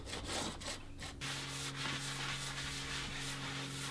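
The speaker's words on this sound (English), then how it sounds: "I'm just gonna be sanding this tabletop off here, getting it nice, smooth." A painted patio tabletop is sanded with a steady rubbing, scraping texture, faint and continuous, with a low constant hum running beneath it after the first second.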